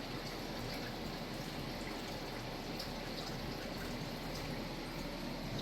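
Soft, steady trickle of water running through plant cups in an indoor grow setup, a faint continuous wash with light dripping texture and no voices.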